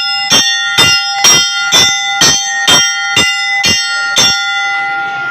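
Police ring a handheld school bell through city streets during a coronavirus safety campaign: nine loud, evenly spaced metallic clangs about half a second apart, each ringing briefly before the next, close to the listener.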